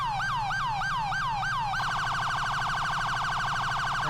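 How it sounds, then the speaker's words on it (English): An LSPD police car in the FiveM game sounds its secondary siren, a few slow rising whoops that switch to a rapid warbling yelp, loud and continuous. "Secondary siren."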